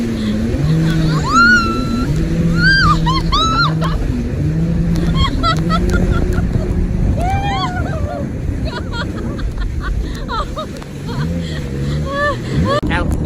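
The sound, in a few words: jet ski riding over ocean waves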